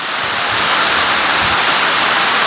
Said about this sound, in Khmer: បងប្អូនអើយមើលភ្លៀងដូចចាក់ទឹក